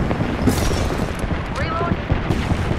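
Fuse's Knuckle Cluster grenade fired in Apex Legends, a chain of thudding cluster blasts and crackling pops over a dense battle din, with a voice talking over it.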